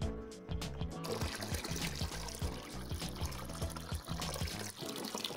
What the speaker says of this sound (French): Rince l'animal.